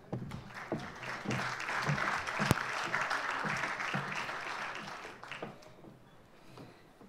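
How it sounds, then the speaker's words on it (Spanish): Applause from a congress audience welcoming a speaker to an anniversary panel, a broad sustained burst of many hands that swells, holds, then thins out toward the end. "La recibimos con un fuerte aplauso."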